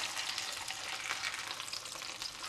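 Giant portobello mushrooms for a burger sizzle in a hot pan as they are flipped and reheated, producing a steady, close, fine crackling hiss with no voices.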